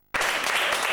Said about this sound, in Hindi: ताली भाई, चलो